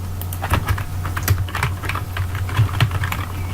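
A computer keyboard is typed on in quick, uneven bursts of light clicking keystrokes, close to the microphone over a steady low hum, with no talking.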